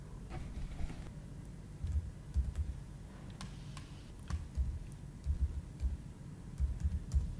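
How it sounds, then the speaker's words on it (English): Computer keyboard keys tapped in a short, irregular run of soft clicks while a title is entered in Photoshop, with small clustered bursts of keystrokes over a low background hum and no voices. "let's start typing in our title here"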